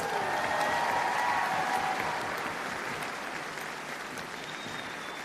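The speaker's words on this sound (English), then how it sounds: "Let's give her another round of applause." Audience applause fills the hall at a Charter College of Education graduation ceremony, a thick wash of many hands clapping that starts strong and gradually eases off toward the end.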